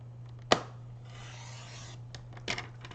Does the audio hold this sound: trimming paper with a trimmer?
yes